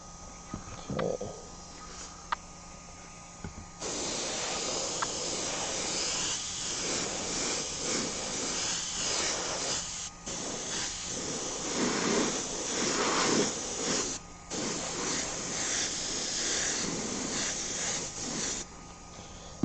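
An airbrush sprays baby blue paint onto a pair of Air Force 1 sneakers, giving a steady airy hiss that runs in long bursts with short breaks, close and continuous, with no talking.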